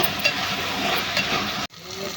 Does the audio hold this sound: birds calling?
no